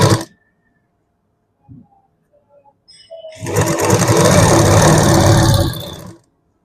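A tailoring sewing machine stitches cloth in a loud, steady whirring run lasting a few seconds, close up, after a couple of brief clicks and handling noises with no talking.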